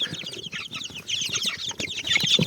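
Several chickens and roosters cluck and squawk close by in a busy, overlapping chatter.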